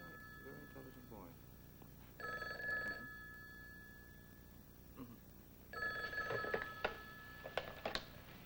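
An old-fashioned telephone bell rings in two bursts, the second followed by rapid jangles, sounding at moderate distance in a quiet room.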